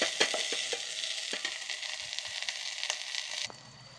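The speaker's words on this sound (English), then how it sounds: "Cook till the onion turns to light brown or golden color." Onion frying in an electric kettle gives a steady close sizzle with repeated sharp scraping clicks as it is stirred, then the sizzle drops quieter near the end.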